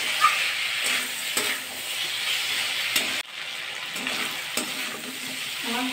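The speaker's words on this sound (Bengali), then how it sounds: "ভালো করে কষিয়ে দেব, আমরা একটু জল দিয়ে কষাবো।" Fried spice masala sautés in a pan with a little water for a rohu fish curry, giving a steady close sizzle and hiss broken by occasional scrapes and stirring knocks, with no voices.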